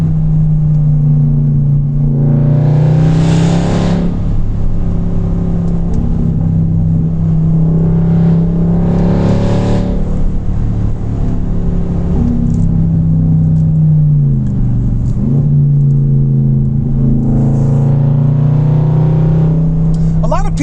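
A 2016 Range Rover Sport, a heavy 5,400-pound SUV, accelerates hard with a steady engine drone and repeated rising sweeps as it shifts gears, loud and continuous for about twenty seconds.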